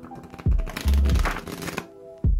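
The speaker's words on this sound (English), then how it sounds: "we're going to look at Riffle Shuffle" Playing cards are riffle shuffled up close: a fast ripping flutter of cards, a brief pause, another quick riffle, and then a soft thump as the deck squares up.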